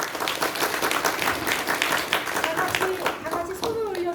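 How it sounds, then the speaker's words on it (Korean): A church congregation claps together, a dense, steady wash of hand claps with voices mixed in and faint sung tones rising near the end. "우리 경례 박수 한번 해주실까요?"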